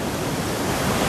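Ocean surf at Mirissa Beach, Sri Lanka, a steady loud broadband wash of breaking waves with no voices.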